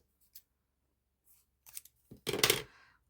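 Scissors snip a craft ribbon in half, a few short quiet cuts and then a louder close crunch of blades near the end, with no talking.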